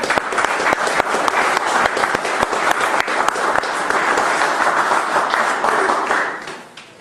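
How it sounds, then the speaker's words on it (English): Lecture audience breaks into a loud, close round of applause with crisp individual claps, sustained for several seconds before tapering off at the end. "Let's give our brother a round of applause."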